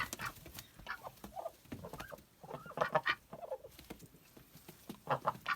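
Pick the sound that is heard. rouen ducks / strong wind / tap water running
rouen ducks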